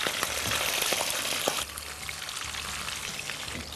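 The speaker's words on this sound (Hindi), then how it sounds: "प्रॉन हमने फ्राई कर लिया है" Prawns frying in hot, smoking oil for a prawn malai curry, giving a loud, dense sizzle that drops a little in level partway through and then carries on steadily.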